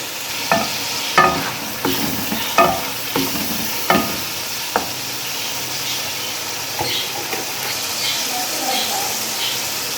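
Meat for butt karahi, seasoned with coriander, black pepper and ginger powder, sizzles in a pan under a run of rhythmic scraping stirs that ease off into a steadier frying hiss.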